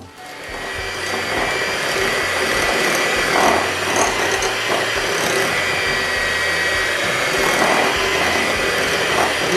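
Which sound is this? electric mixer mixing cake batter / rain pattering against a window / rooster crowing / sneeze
electric mixer mixing cake batter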